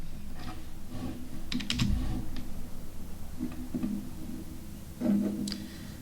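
Typing on a computer keyboard, heard as short bursts of close, crisp key clicks separated by pauses, over a faint background hum with no speech.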